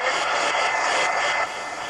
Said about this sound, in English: now let me take the heat gun, dry it, heat gun